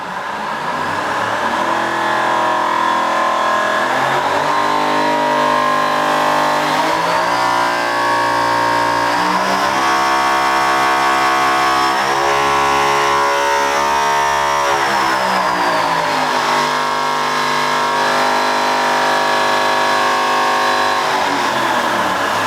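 A Toyota 2JZ engine runs on a dyno and revs steadily, loud and close, its pitch climbing and falling through several long sweeps with a droning resonance, no voices.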